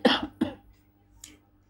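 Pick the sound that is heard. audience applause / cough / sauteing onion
cough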